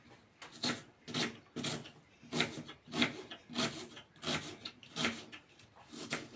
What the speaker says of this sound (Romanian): Acum tăiem două cepe.